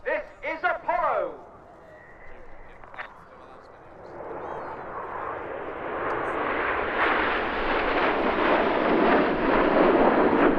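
Red Arrows jets roar past at the RAF Cosford airshow, the engine noise swelling from a low rumble into a loud, sustained wash, with brief talk at the start.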